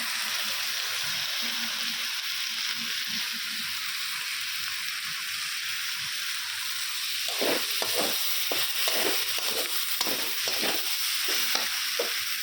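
Mung dal frying in a pan hisses with a steady broad sizzle, and from midway a run of quick scraping stirs joins in, irregular strokes of a utensil against the pan over the constant crackle.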